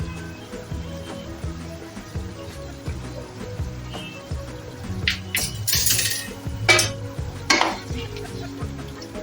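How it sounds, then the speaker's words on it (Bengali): Salt being stirred into a pot of rezala meat curry, a steady clatter of spoon against pot over a low simmering sizzle, with a few sharper metallic scrapes near the end. "আর একটু লবণ দিয়ে একটু নাড়াচাড়া করে দিচ্ছি"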